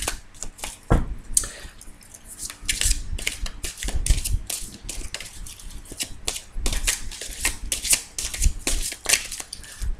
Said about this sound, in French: Par contre, il est un petit peu difficile à battre hein, parce qu'il n'est pas facile. Il est très épais